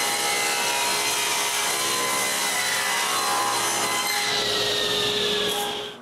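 A saw rips a strip along a wooden piece for a homemade wooden bandsaw, giving a loud, continuous rasping cut that holds steady and then trails off at the end.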